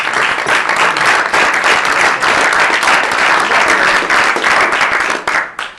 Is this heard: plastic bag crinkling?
no